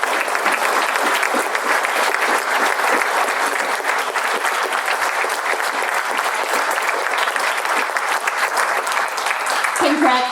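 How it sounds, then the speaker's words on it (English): Sustained applause fills a ceremony hall for the finalists and winners, steady and dense from many hands without a break, with a crowd murmuring beneath it. "let's give them another round of applause"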